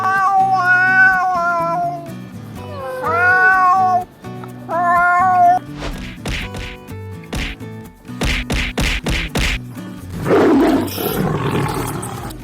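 Cats, a kitten and an older cat, yowl in long, wavering howls, then break into a burst of hissing, growling and scuffling as they fight, loud and close.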